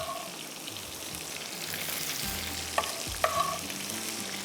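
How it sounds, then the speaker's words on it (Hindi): Onions sauté in a pan as tomatoes go in, with a continuous close sizzle and a couple of sharp spoon knocks and scrapes against the pan as everything is stirred together. "सब्ज़ी थोड़ी सी कर दी, प्याज हमारा थोड़ा सा सौते हो गया। इसके अंदर जाएंगे ये टमाटर"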